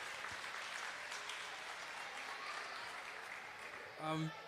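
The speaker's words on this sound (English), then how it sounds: "they deserve a round of applause" Faint, steady applause from an audience at a grade 6 primary school academic bowl, a soft continuous patter of clapping that eases toward the end, where a brief voice breaks in.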